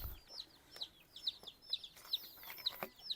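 Chicks cheeping in a steady run of high peeps, one after another, with softer clucking from chickens behind, close and fairly quiet.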